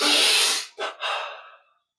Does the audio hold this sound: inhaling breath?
yes